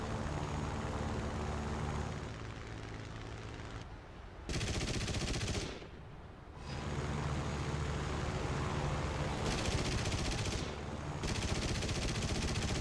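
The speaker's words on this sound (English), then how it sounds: "Oh, getting shot at." In a War Thunder air battle, dense machine gun fire rattles in long continuous bursts over the drone of fighter plane engines, briefly dropping off twice before resuming loudly.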